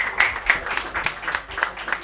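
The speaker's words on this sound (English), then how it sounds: "give you everybody else a round of applause" Audience applause at an evening science presentation, a short burst of scattered, uneven clapping from a small crowd, fairly close and moderately loud.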